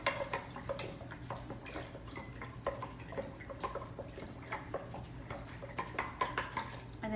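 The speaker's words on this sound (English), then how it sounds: "And then stir one more time." A spoon stirs homemade Labor-aide drink in a container, giving quiet repeated clinks and taps in an irregular rhythm over a soft low hum, close and faint, with no talking.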